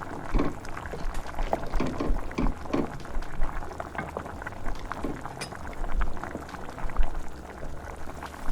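A pot of Jamaican stew peas with dumplings bubbles and gurgles softly while being stirred, with scattered wet clinks and scrapes at moderate level and no speech.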